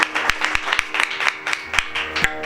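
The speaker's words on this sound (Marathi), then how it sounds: "टाळी वाजवा बाबांकरता." An audience claps along in a steady, rhythmic beat at a Marathi devotional kirtan held for a death anniversary, the claps loud and close over a continuous crowd hum.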